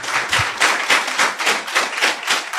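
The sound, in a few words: auditorium audience applause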